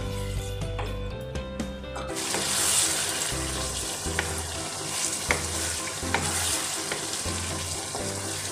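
Masala sizzles and fries in a pan while a spoon stirs and scrapes it in irregular strokes, close and moderately loud, with a low steady hum underneath.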